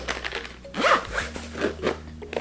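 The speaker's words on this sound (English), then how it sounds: "So I'm gonna unzip this." A zipper on a Sennheiser Momentum 4 headphone case is pulled open in a few quick rasping strokes, close by, with a soft rustle of fabric between pulls.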